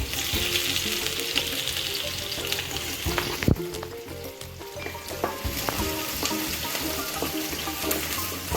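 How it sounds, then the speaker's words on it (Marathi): Onion hits hot oil for a Sankranti bhogichi bhaji, a loud, close, continuous sizzle and crackle with a sharp clatter of stirring midway, no voices. "आता यामध्ये कांदा घालायचा आणि छान कांदा परतवून घेऊ"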